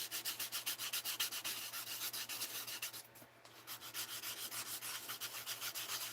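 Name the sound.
sanding acrylic stamps with an emery board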